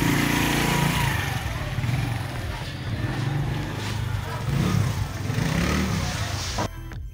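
A motorcycle engine runs steadily and loud at a bike parking area in Karachi, a continuous close rumble with slight swells, ending with a brief cut.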